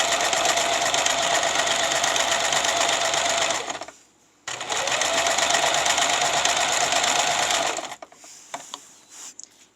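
A sewing machine stitches along the folded edge of a belt, running in a loud, even whir, stopping briefly, starting again, then halting with a few light clicks.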